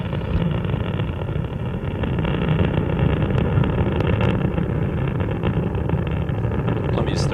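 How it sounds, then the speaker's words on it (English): Space Shuttle Columbia's three main engines roar at liftoff on the STS-83 launch, a steady, dense rumble that stays loud and unbroken from start to finish. "Columbia's 3 main engines is now throttled back to 2/3 throttle to prepare the spacecraft to pass through the area of maximum air pressure"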